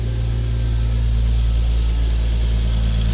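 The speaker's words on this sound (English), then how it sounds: "fired this engine up for you guys, so you can see it's sitting at, I know it's still at cold idle, so it's about 1200 RPM still" A Toyota Supra 2JZ engine at cold idle, about 1200 RPM, holds a loud, steady low hum with an even throb heard up close and no other sounds.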